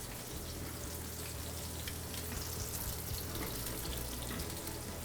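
Flour-dredged monkfish pan-fries for piccata, giving a dense, continuous sizzle and crackle of hot oil that stays loud and even throughout, with no talking over it.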